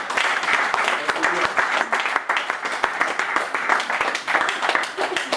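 A church congregation claps together in dense, steady applause that holds at an even level from start to finish.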